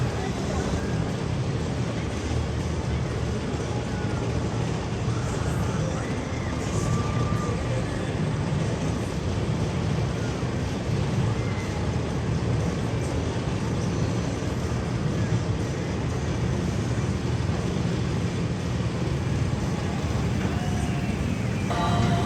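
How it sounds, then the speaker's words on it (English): Riding Steel Force, a 1997 Morgan Hyper Coaster at Dorney Park, brings a loud, unbroken roar of wind and rattling track rumble that holds steady for over twenty seconds, with voices faintly mixed in. "next coaster of our day is going to be Steel Force, 1997 Morgan Hyper Coaster"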